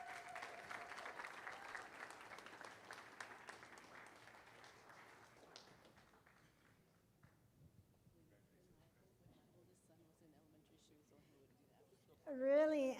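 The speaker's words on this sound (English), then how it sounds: "We could please give her a big round of applause." Applause from the audience at a regular school board meeting, a broad wash of clapping that fills the room for several seconds, then fades into quieter room noise before a voice comes in near the end.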